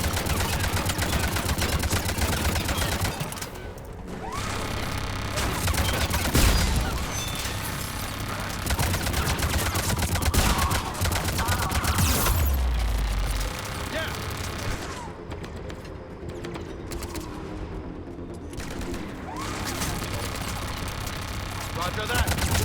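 Turret gunfire in the video game Mass Effect Legendary, rapid continuous bursts and booms filling the scene for over twenty seconds, with short lulls and a player's voice talking over the fire.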